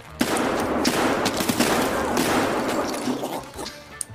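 Shotgun blasts in Escape from Tarkov, a rapid, dense run of loud booming shots packed closely together over a few seconds, with little pause between them.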